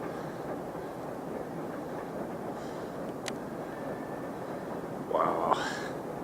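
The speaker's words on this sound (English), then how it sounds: "Wow, that's a long train." A long freight train of oil tank cars rolls steadily past nearby, a continuous rumbling clatter of wheels on rails with a brief squeal and a few faint voices near the end.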